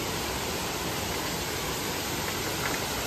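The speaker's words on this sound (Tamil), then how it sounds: "இது பாருங்க, இந்த ஃபால்ஸ் இன்னும் ரொம்ப நல்லா இருக்கு பார்க்கறதுக்கு" Waterfall on a forest trek in the Agathiyar hills, a steady dense roar of falling water heard close and unbroken, with no voices over it.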